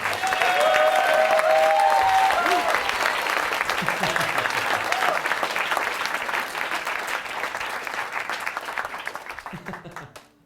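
Applause fills the hall at a stage hypnosis show, loud and sustained, with a voice and cheering woven through the opening seconds, then gradually thinning and fading out near the end.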